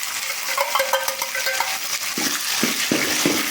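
Chopped onions and curry leaves frying in oil for a village-style sundakkai kulambu: a steady, loud sizzle throughout, broken by scraping stirs and a few dull utensil knocks against the pan.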